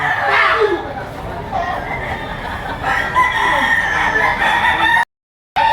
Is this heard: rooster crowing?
yes